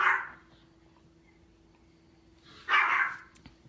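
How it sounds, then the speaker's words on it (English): A small dog barks at cats indoors: one sharp bark at the start, a pause of near quiet, then a second louder bark or yip burst near the end, close to the microphone. "He's barking at my cats"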